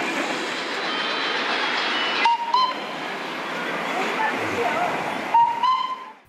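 The Darjeeling toy train rolls along its narrow-gauge rails between Darjeeling and Ghum, a loud continuous rumble with metallic wheel squeals and clanks rising close by.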